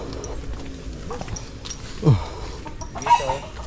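A chicken clucks and squawks a few times close by during a short ride, with a sharp squawk midway and more clucks near the end over a low background rumble.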